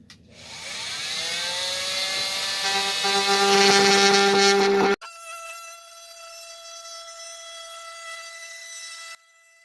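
A power saw cuts through thin 3/8-inch wood during an RV floor renovation, a loud whining buzz that rises in pitch and strain for several seconds, then abruptly drops to a thinner motor hum as the blade spins down and stops.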